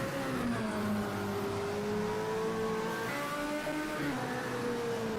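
A very small Fiat X1/9 hill climb race car making about 300 horsepower accelerates steadily at a European Hill Climb Championship round. Its engine note rises and shifts through gears for several seconds, heard from a moderate distance over a constant rough roar.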